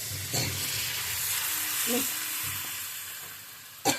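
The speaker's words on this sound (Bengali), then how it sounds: "মশলা থেকে এবার তেল ছেড়ে গেছে, আমি এখন জলটা দিয়ে দেবো" Water poured into spice masala frying in oil, a broad steady sizzle and steam hiss close by, with a few soft utensil knocks and a sharp clatter at the end.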